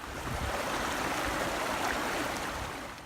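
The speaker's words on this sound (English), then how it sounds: "Nice little creek here." A small creek on a cold morning hiking trail rushes and babbles in a steady, full wash of flowing water, close by and continuous with no voices.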